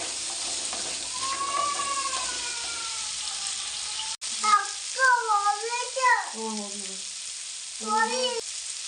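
Spices frying in a pan for horse gram bassaru, a soft sizzle in the first half, then a voice speaking in bursts over the faint hiss of the pan.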